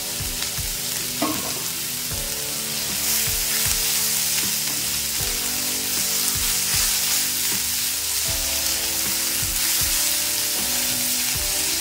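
Capsicum and vermicelli frying in a pan, a continuous loud crackling sizzle with repeated spatula scrapes and taps throughout, close up and with no speech over it.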